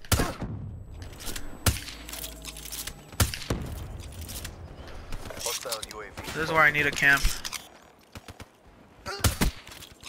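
Video game gunfire cracks in sharp bursts during a Black Ops 3 multiplayer match, with scattered shots through walls, some loud and some distant, separated by gaps while a player talks.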